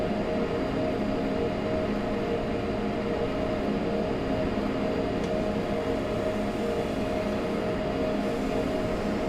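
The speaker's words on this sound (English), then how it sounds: "then the locomotive will gradually start increasing the power once again" Steady, dense locomotive rumble from Train Simulator 2016 on the Semmeringbahn between Gloggnitz and Mürzzuschlag, the engine climbing uphill under power with a constant low drone and hum that stays level throughout, no voices.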